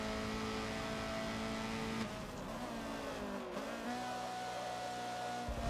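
Race cars pulling away together in Forza at the Mugello club track, engines droning steadily with tones shifting as they gear up, a continuous mid-level roar without talk.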